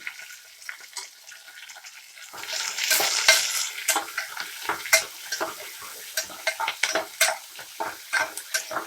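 Chopped onions hit hot oil with a sudden loud sizzle, then crackle and spit steadily while a spoon stirs and scrapes the pan in irregular clinks, for a village-style pappu charu lentil curry.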